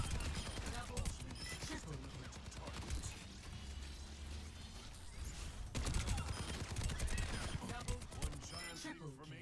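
Overwatch 2 Stadium match with bursts of gunfire and ability blasts spread through the stretch, mixed with game effects and clatter at a steady, fairly quiet level.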